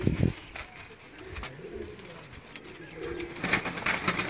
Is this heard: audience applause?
no